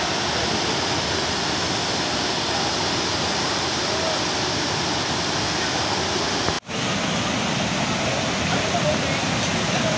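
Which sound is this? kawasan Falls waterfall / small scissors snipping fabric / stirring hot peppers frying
kawasan Falls waterfall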